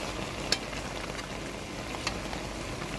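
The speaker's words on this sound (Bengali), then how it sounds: "আবারও ভালো করে নেড়ে দিলাম।" Soybean curry being stirred in a pan, a soft continuous simmering sizzle with a few sharp scrapes or taps of the spoon, fairly quiet and without talk.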